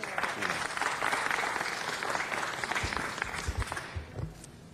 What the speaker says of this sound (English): Please give him a big round of applause and welcome him to the city of Los Angeles.